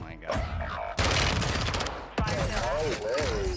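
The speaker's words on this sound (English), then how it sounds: "Please stop shooting me." Rapid automatic gunfire from the video game Warzone 2 crackles in loud, dense bursts, with a short pause between two sustained volleys.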